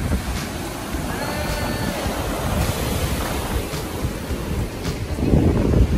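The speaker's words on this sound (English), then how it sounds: "Maybe we'll get to see the waves come in and smash the castle soon." Ocean surf at Panama City Beach, Florida, a continuous washing roar of waves with wind buffeting the microphone, rising into a louder surge near the end, with no voices.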